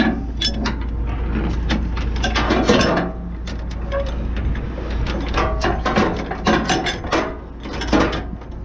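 Metal chains being hooked up while working down in a valley, a busy run of close clanks, rattles and ratcheting clicks in irregular bursts, loud and without voices.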